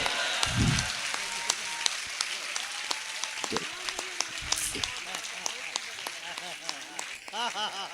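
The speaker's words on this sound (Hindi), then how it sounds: "मैं देखना चाहता हूं कितनी तालियां उठती हैं।" An audience claps at a Hindi poetry recital, scattered applause with sharp individual claps running the whole stretch under an ongoing voice, with music-like tones near the end.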